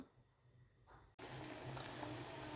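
A quiet low bubbling turns abruptly into a loud, steady rush of water boiling in a pot, with no voices.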